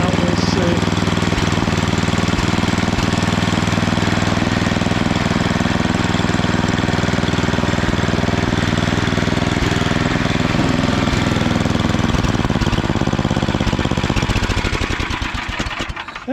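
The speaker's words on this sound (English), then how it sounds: "The engine is kind of running at a lower RPM" A fixed-up estate sale snowblower engine runs at low RPM, a loud steady mid-pitched chug and knock that holds throughout before cutting out at the end, with no speech over it.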